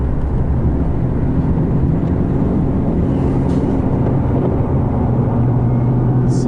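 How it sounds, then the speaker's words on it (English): Loud, steady rumble of big tires on the road from inside a moving vehicle with the window down, a constant low roar mixed with wind buffeting and no break. "How loud can you hear my wheels? These big tires."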